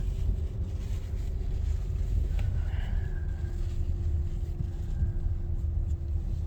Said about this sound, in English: This is a brand new Motor City Washworks tunnel.